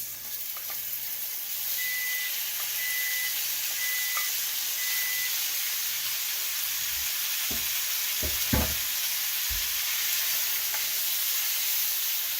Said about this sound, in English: Then I've got our steak here that I'm going to put in.